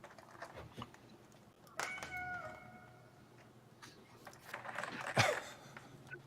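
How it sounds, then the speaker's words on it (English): Indoors, a cat lets out a short meow, followed a few seconds later by a louder, harsher yowl, among scattered clicks and clatter. "I swear that was a cat in my room."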